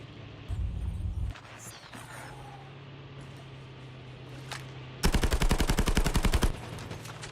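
Gunfire in a competitive video game match, a short automatic burst early, then a longer rapid machine-gun stream of evenly spaced shots, loud and close, with quiet game ambience between.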